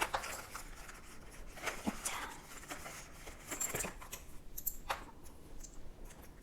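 Coins being handled and sorted during a household cash-budget tally, with scattered light metallic clicks and clinks close by over several seconds and a faint murmur in the background.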